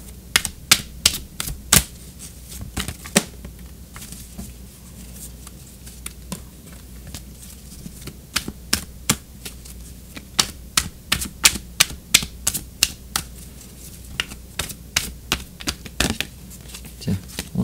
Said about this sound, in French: on va tirer une carte d'oracle